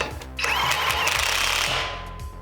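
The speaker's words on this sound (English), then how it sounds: "So I'm just going to use the nut and tighten it" A power tool, likely an impact wrench, runs a nut down to draw a new axle through the wheel hub of an Infiniti G37, a loud steady mechanical burst lasting about two seconds after a short quieter lead-in.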